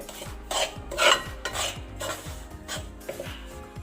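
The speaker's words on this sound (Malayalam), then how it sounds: "ഉപ്പും തേങ്ങയും പൊടിയും ഉള്ളിയും ഒക്കെ മൊത്തത്തിലൊന്ന് മിക്സാക്കിയിട്ട്" Salt, grated coconut, rice flour and onion are mixed by hand in a bowl for pidi, giving scraping, clinking contact against the bowl in irregular strokes, close and moderately quiet.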